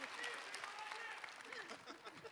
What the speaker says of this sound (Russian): А это ваши аплодисменты.